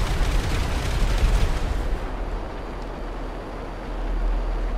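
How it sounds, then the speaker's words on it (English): Explosions in GTA 5 Online go off as a dense, rumbling blast-like roar, loud and continuous at first, then easing into a lower, steadier rumble. "the explosions are just happening behind me because I'm flying along at jet speed"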